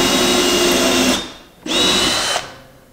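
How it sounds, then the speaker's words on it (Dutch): Power drill boring holes into a wall at set spacing along a marked line, two bursts of whining high-speed drilling separated by a brief pause, close and loud. "Dan mag je op het lijntje maar een gaatje boren."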